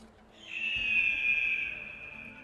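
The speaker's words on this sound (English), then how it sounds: "Oh, that's a screeching noise. An eagle." A single long, sharp eagle screech from GTA 5 rises in loudly after a brief quiet moment, then holds steady and slowly fades. It sounds clear and alone, with no speech over it.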